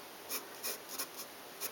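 Inking pen strokes over drawn lines on paper while sketching an anime face: five short, soft scratchy strokes at a steady rhythm, close and quiet.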